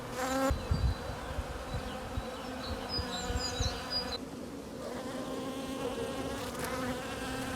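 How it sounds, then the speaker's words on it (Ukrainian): Close, continuous buzzing of many honeybees flying out of a hive to gather first pollen, a droning insect hum with brief higher whines passing by. "бджоли з великою завзятістю вилітають з вулика зібрати перший пилок"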